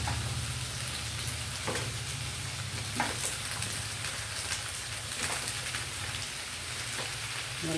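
Chicken drumsticks fry in a pan with onion and garlic, giving a steady, even sizzle throughout with occasional faint stirring taps.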